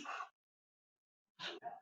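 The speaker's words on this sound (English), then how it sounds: "I sneezed" A person sneezes nearby: one sharp burst, then a short silence, then a second sharp, breathy sneeze followed by a brief trailing exhale.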